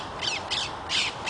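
A parrot gives four harsh, raspy squawks in quick succession, fairly close and loud over a quiet background, with no one speaking.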